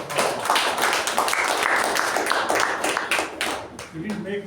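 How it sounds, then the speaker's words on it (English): A small group claps at a meeting, brisk individual hand claps close by forming a short round of applause, with a voice speaking briefly near the end. "Let's give her a good round of applause"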